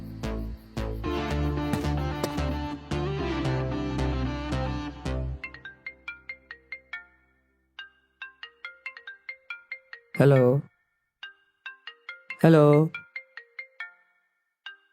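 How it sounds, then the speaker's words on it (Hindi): A musical phone ringtone plays loudly, then quieter repeated electronic tones follow; a person briefly speaks in between. "तुम्हारा फोन बज रहा है।"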